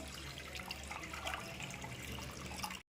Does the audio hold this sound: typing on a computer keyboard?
no